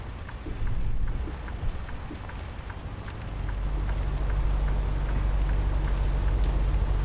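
Steady rain patters and hisses in American Truck Simulator, soon joined by a low, constant truck engine drone underneath.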